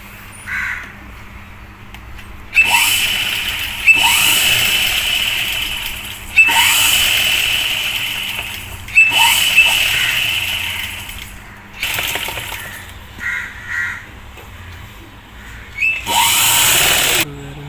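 A sewing machine stitches a fabric strip beneath the sleeve of a side-zip jumper garment, running in repeated loud bursts of rapid whirring with short pauses between, up close and with no talk.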